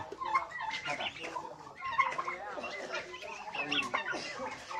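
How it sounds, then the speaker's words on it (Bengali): Chickens on a Bangladeshi poultry farm, clucking and fussing repeatedly and fairly close, mixed with people talking over the birds throughout. "একটা মুরগি মোরগ অথবা মুরগি একটু হাতে নিয়ে আসেন"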